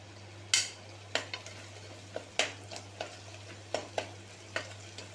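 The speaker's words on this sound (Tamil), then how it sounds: "நல்லா ஒரு தடவை கிண்டி விட்டுக்கோங்க. இஞ்சி பூண்டு பேஸ்ட் வதங்கிருச்சு." Ginger garlic paste sautéing with mint and coriander, a spoon scraping and stirring the pan in sharp irregular knocks over a soft, steady sizzle, close and alone.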